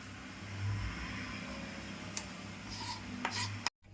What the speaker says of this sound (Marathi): हे सगळ्या बिया काढून घेते.